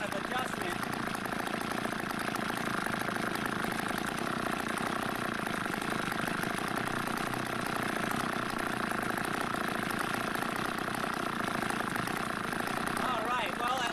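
A small engine idles steadily after a carburetor adjustment, with an even, continuous mechanical drone held at moderate volume throughout.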